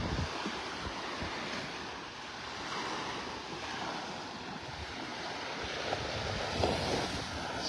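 Waves washing onto the seashore at Vanderbilt Beach in North Naples, Florida, a continuous broad surf wash with some wind noise on the microphone and no voices.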